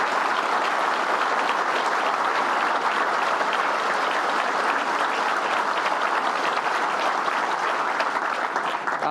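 Sustained applause from an audience at a luncheon, dense and steady clapping that fills the room for several seconds without a break.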